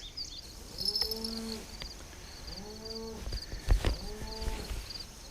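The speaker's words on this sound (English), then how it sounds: "Cows have been making a lot of noise this morning." Several cows moo from a distance near a muddy river in early morning, long low calls repeating across the clip over a faint outdoor hiss and scattered insect chirps.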